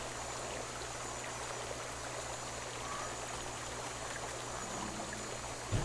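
Flowing water in a dinosaur survival video game makes a steady, even stream hiss that continues unbroken at moderate volume, with no voices over it.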